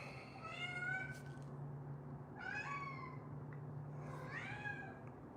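A house cat meows three times in a row, each call a rising-then-falling wail, fairly close and clear over a steady low background hum.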